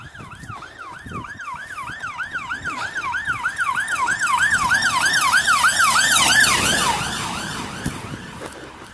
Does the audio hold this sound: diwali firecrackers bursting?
no